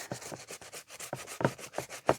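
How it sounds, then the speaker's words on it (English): Aluminium foil rubbing back and forth over rust-stained chrome on a vintage part, a quick rhythmic scrubbing of about a dozen short strokes, close and fairly soft, with no voices. "with some aluminium foil on the chrome, it polishes it up beautifully, very easily, and it takes the rust stains off"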